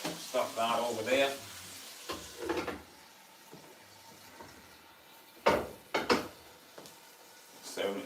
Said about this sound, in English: Listen to the sizzling of that,